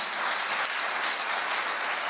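Steady audience clapping at a comedy show, a thick continuous patter of many hands filling the room with no voices over it.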